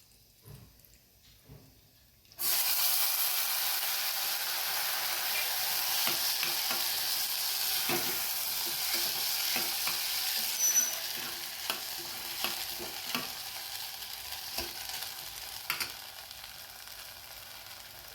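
Sago stirred and roasted in a pan for kheer gives a steady sizzle with repeated scraping stirs, close and loud after a quiet start, with no voices.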